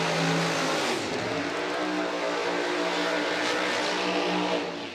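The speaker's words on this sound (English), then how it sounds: "as Jason Harris and Don Tolley complete their burnouts" Drag racing cars roar through burnouts at a drag strip, a loud sustained engine howl with shifting revving tones that fades slightly at the end, with no talking.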